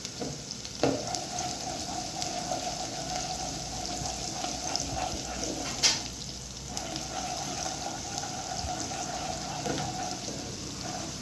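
Food fries in a pan with a steady low sizzle throughout at dinner cooking, with a few light clinks and stirring touches over the constant hiss.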